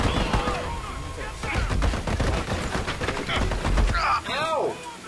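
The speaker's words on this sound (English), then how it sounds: "We're being shot from the other side too." Rapid gunfire bursts in the shooter video game Army of Two, loud repeated shots and automatic fire, with a voice talking over part of the action.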